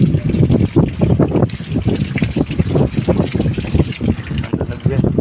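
Coolant water drains out of a tractor radiator during servicing, pouring in a loud, continuous close-up gush with uneven splashing pulses.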